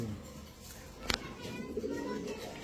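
A male pigeon at a pigeon seller's coos softly in low, rounded notes amid background chatter and room noise, with a sharp knock partway through.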